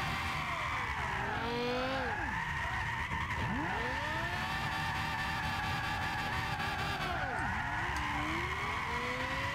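Tires squeal continuously as an engine drones under a Lexus LFA drifting sideways at Suzuka in the video game Gran Turismo 6, with pitch swooping up and down across several long skids.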